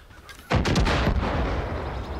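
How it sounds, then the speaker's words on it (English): Explosions and gunfire in the video game Far Cry 5, with a heavy blast booming in after a quiet start and a dense, continuous rumble of shots and detonations that keeps going loud to the end. "bombs going off everywhere around here"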